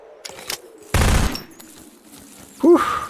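A heavy-recoil gun in the video game Zero Sievert fires one loud, sharp burst, surrounded by a few smaller pops and clicks and a brief tonal game sound near the end.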